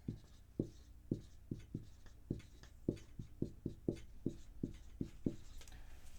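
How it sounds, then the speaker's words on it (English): A pen scratches across paper in steady, close strokes, about a dozen short, evenly spaced marks, with nothing else heard. "Let me finish writing it."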